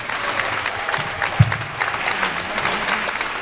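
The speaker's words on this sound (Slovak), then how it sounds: "Veľký potlesk pre nich" Audience applause after a live concert in an evangelical church, a dense sustained clapping from a large crowd filling the space evenly throughout, with no voices rising above it.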